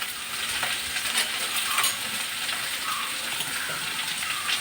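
Grated coconut with salt is stirred in a pan, giving a steady scraping, rustling sizzle with light clinks of the utensil throughout, no voices.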